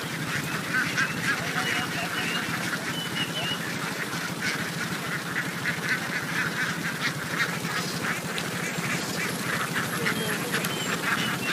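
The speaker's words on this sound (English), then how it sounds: "It's actually not uncommon to see a river of ducks flow through the streets of Vietnam." A crowd of ducks flowing through a street in Vietnam quacking continuously over a busy, dense background, many calls overlapping at steady volume throughout.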